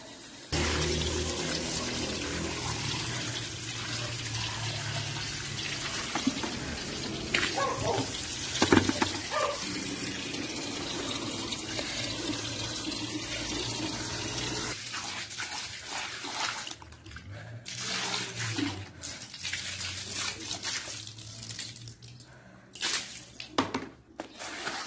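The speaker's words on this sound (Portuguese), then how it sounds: "vou ter que lavar de novo o tapete" Tap water runs steadily while a rug full of pet hair is washed, a dense continuous rush that eases after about fifteen seconds into thinner splashing with brief sharper bursts.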